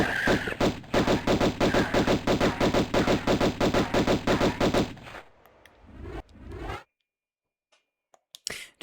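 Lara Croft's twin pistols fire in a fast, steady alternating rhythm in Tomb Raider 1 Remastered, about fifteen sharp loud shots over five seconds, then a short tail of softer game sounds and silence.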